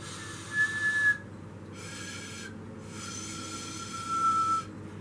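Breathy whistling tones from blowing across the tops of straws of different lengths, here a deeper pitch: three separate airy blows with pauses between them, fairly close over a low background hum.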